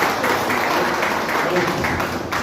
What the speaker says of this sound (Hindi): सर के लिए पहले जोरदार तालियां होनी चाहिए।